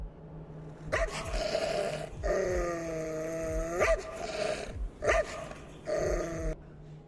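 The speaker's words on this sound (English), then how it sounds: "His deep, ferocious bark rang out, echoing through the quiet night." A big dog barks fiercely up close, sharp loud barks broken by a drawn-out snarling bark, over a quiet background.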